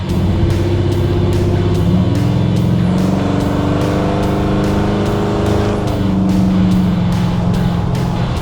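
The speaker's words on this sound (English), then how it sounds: "Nice light throttle acceleration, you just barely even feel the shifts, which is amazing." A 1951 Ford Custom accelerates gently on the road, its engine a steady, fairly loud drone that rises in pitch and steps down as the gears shift smoothly. No one speaks.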